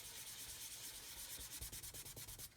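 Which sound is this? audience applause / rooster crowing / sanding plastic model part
sanding plastic model part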